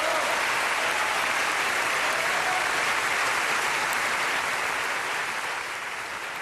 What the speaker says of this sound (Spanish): Fue el momento en el que todos lo aplaudieron